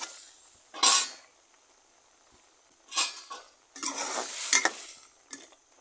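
A taro flower dish is stirred in a pan, with a few distinct bursts of scraping and clinking from a utensil against the pan separated by near-silent gaps, the last bursts longer and busier.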